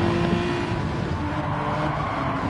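A Ferrari race car engine roaring in a DTCC 2024 race, a sustained loud motor drone with tire noise, close and continuous throughout.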